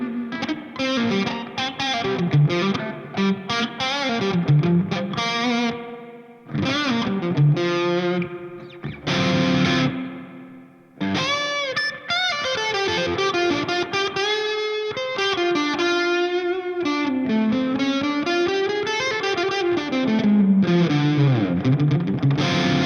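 Distorted electric guitar through an Orange Rockerverb MKI amp with reverb set halfway, playing sustained chords and melodic bends in loud, continuous phrases with brief gaps, no talking.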